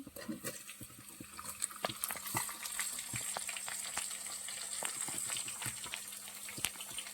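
Tomatoes, onions and green chillies frying in oil in a pan, a quiet, steady sizzle with scattered crackles and light clicks, close by with no voices.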